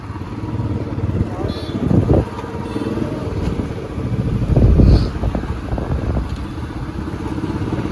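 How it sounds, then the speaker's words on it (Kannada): A motorcycle moves through heavy road traffic, its engine rumbling steadily with a couple of louder surges, and faint voices under the engine noise. "ಹೆವಿ ಟ್ರಾಫಿಕ್ ಉಂಟು."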